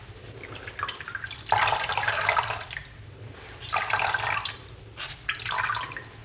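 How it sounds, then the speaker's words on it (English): A flannel is rinsed in hot water at a barber's during a shaving routine: splashing and sloshing come in several bursts with short quiet gaps between them, close and fairly loud, and no one talks. "It's going to go into the hot water, rinse it off."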